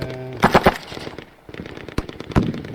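Gunfire in the tactical wargame Lock and Load Tactical Digital, day of heroes: a few crackling bursts and sharp single shots, fairly loud and uneven, with no talk.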